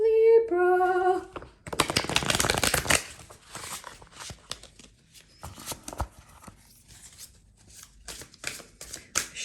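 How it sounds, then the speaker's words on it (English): Tarot cards are shuffled in rapid riffling bursts with softer shuffles and taps afterward, following a brief tonal chime at the start. "Shuffle in front of you guys."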